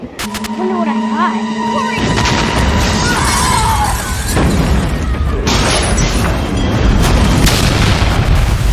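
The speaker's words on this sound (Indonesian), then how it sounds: "Seluruh yang ada di sekitar gitu pokoknya itu meledak" A heavy boom erupts about two seconds in, followed by a long roar of rumbling debris and crackling that continues loudly to the end.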